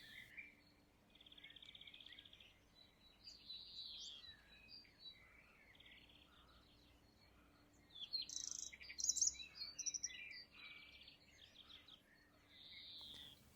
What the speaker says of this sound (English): Birds are singing, a gentle breeze is going